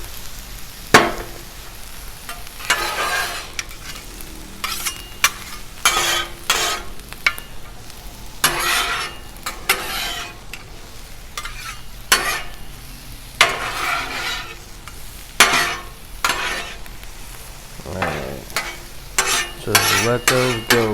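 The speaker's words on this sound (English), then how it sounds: "let's mix this stuff up a little bit. Chop these onions a little more." Onions are mixed and chopped on a 36-inch Blackstone griddle: repeated loud metallic scrapes and clanks of spatulas over a background sizzle, in irregular bursts.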